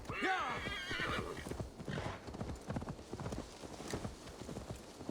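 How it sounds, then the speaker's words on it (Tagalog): A horse in Assassin's Creed Valhalla whinnies loudly at the start, then gallops with rapid, rolling hoofbeats that continue steadily to the end under faint background sound. "Tatawag ako ng kabayo ko."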